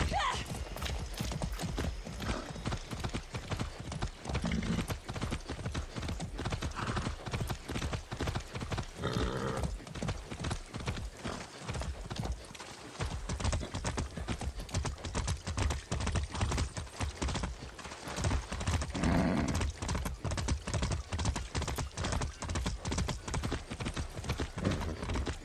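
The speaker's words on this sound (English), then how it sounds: "I haven't ridden a horse since basic training." Horse hooves galloping in the video game Far Cry 6, a fast, continuous clip-clop of hoofbeats lasting throughout, close and steady, with occasional voices talking over the ride.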